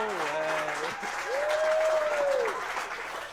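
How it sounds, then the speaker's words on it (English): A whole room of people bursts into steady, loud applause for a man, the clapping dense and continuous with a few voices and whoops rising over it. "He's got an entire room of people all applauding him"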